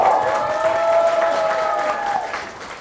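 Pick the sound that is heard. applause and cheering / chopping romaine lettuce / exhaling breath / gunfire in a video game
applause and cheering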